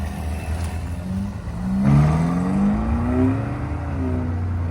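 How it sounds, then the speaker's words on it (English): A Ferrari V8 car engine pulls away from a classic car and bike breakfast meet outdoors, a steady low rumble rising as it accelerates, moderately loud and fairly near, with no talk over it. "There's some Ferrari V8 goodness."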